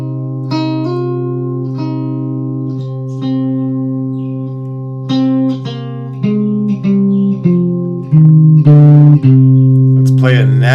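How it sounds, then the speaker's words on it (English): A C natural minor (Aeolian) scale climbs step by step over a steady sustained drone, each note held briefly, played clearly and close with no talking. "Play a natural minor."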